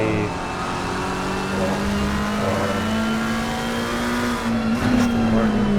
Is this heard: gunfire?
no